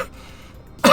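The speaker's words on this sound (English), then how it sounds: "I'm wondering if I'm ever gonna stop freaking coughing." A single short, close cough bursts out right at the end after a quiet stretch.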